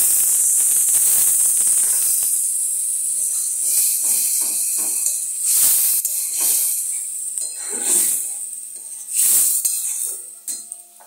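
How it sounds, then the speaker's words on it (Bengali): Water poured into hot oil with fried spices for a home-style potato and paneer curry hisses and sizzles loudly in bursts, sharp crackling spurts rising and fading over a constant steamy hiss. "এবার আমি জল দিয়ে দিলাম"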